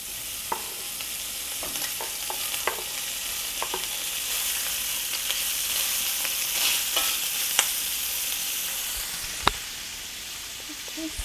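Smoked sausage sizzles in a pot with sauerkraut, a steady frying hiss broken by occasional stirring scrapes and clinks of a utensil against the pot.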